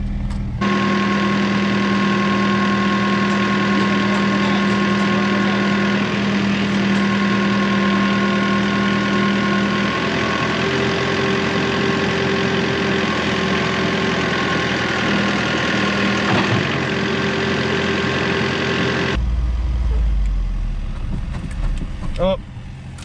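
A Jeep engine runs steadily at a loud, close idle while it powers a winch through a snatch block, with a constant droning hum; near the end it cuts out abruptly and the clip drops to quieter background.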